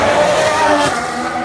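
Williams Formula 1 car driven by Valtteri Bottas at the Singapore Grand Prix street circuit, a loud high-pitched engine scream passing close by in a brief burst, with a sharp swell midway.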